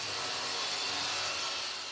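Sanding of a large wooden furniture surface gives a steady, faint, continuous abrasive hiss with no breaks or voices.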